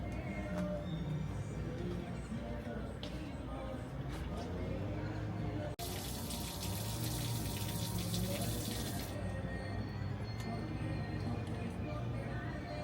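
Water runs steadily from a tap at a filling station in Mexico, a constant rushing hiss that briefly strengthens, with people talking over it.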